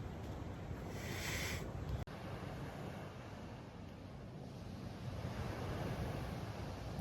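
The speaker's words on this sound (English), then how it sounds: "just listening to the sound of the waves" Ocean waves on a Florida beach, a continuous rolling surf wash with wind buffeting the microphone, fairly quiet and steady with no voices.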